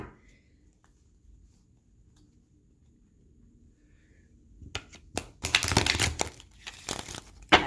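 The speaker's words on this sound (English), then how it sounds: "All right, let's shuffle." Tarot cards are shuffled after a quiet stretch, a close run of riffling, flicking card noise in quick uneven bursts that builds to a dense crinkling rush.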